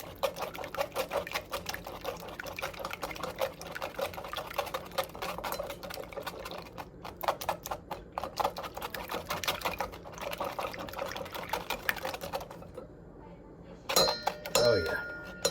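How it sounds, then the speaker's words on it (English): A whisk scraping and pushing a mixture through a metal strainer in a kitchen, with rapid repeated rhythmic strokes close by, then clinking near the end. "Gonna keep whisking until it's all pushed through."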